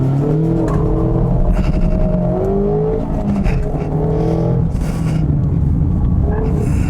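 A 2016 Mazda MX-5 Miata's normally aspirated 2-liter four-cylinder engine revs hard and accelerates, its loud buzzy note climbing through the gears of a six-speed manual close by.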